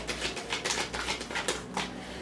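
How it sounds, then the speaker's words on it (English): Tarot cards shuffled by hand, a run of quick papery riffles and soft flutters that come in short bursts about every half second, close up, with no talking. "my personal way of shuffling cards is like this"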